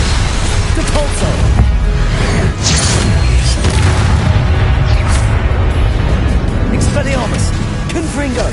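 Booming magical blast from the Depulso spell in Hogwarts Legacy on PlayStation 5, loud and dense with crashes and bursts, while a voice speaks over the game action.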